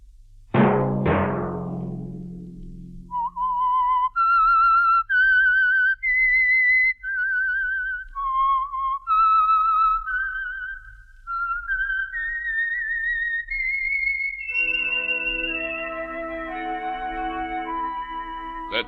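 The signature whistled theme of The Whistler, a 1940s Signal Oil mystery radio drama: a lone, clear melodic whistle rising through a sequence of held notes after an opening orchestral chord, ending as the orchestra swells back in.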